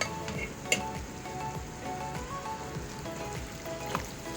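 Macaroni sauce cooks in a pan with a soft, steady sizzle and bubbling crackle, faint and continuous with a couple of small clicks and no talking.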